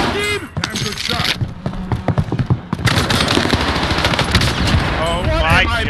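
Automatic gunfire rattles in rapid bursts in the Call of Duty Warzone Pacific (Caldera) battle royale game, with close, loud volleys and short pauses, while excited voices exclaim over the shooting.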